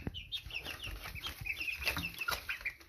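Young chickens cluck and chirp in a brooder, the soft busy calls overlapping and coming close together, with nobody talking.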